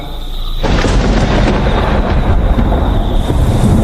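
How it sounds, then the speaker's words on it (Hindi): A loud thunderstorm opens with a sudden crack of thunder, then heavy rain and gusting wind roar steadily without letup in an animated village scene. "अचानक बारिश इतनी शुरू हो गई क्योंकि ऐसा लगा जैसे आसमान फट पड़ा हो। बिजली की कड़क और हवा की सनसनाहट"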